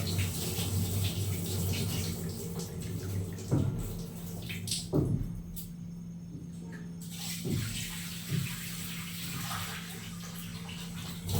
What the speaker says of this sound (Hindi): ये देखिए मैं चावल धो रहा हूँ।